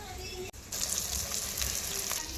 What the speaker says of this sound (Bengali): তো এই কষানো মশলার মধ্যে এই ভেজে রাখা মাছগুলি দিয়ে দেবো